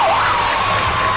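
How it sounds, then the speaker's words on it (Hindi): A loud siren sound effect plays on a TV game show, a steady wailing tone with a rising sweep at the start, close and continuous over a brief stretch. "साइरन मैंने रखा हुआ है"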